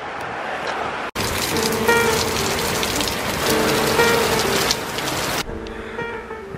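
Steady heavy rain pours down in the Tatra mountains near Zakopane, Poland, a dense, continuous hiss with a brief break near the start before the downpour resumes at full strength.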